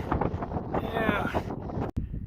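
Gusty wind buffets the microphone on a cold mountainside at 12,000 feet on the Colorado Trail, a loud rushing roar that cuts out for an instant near the end.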